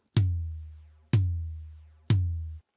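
Three evenly spaced hits on a rack tom processed with heavy drive, each a sharp attack followed by a deep, saturated boom that decays in under a second, with no voices.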